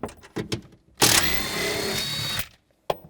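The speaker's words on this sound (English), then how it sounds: "we're gonna take these nuts off. There's 4 of them." A power drill or driver with a 10mm socket spins off a trunk nut in one loud burst lasting about a second and a half, with short clicks and handling knocks before and after.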